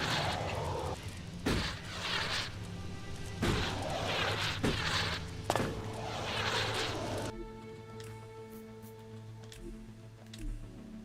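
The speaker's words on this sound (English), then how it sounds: "I'm still shooting." Gunshots in the sci-fi action role-playing game ELEX ring out as several sharp, loud bangs spaced irregularly over the first seven seconds, then give way to quieter tonal ambience.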